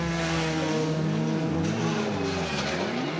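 A BMW V12 LMR race car driving with a loud, steady engine drone whose pitch rises and falls through gear changes, heard close throughout.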